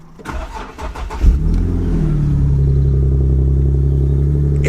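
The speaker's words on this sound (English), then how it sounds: "let's just start the engine" A modified Nissan 370Z with an aftermarket exhaust cold-starts: a short cranking stutter, a loud flare, then a deep steady idle drone that stays close and continuous.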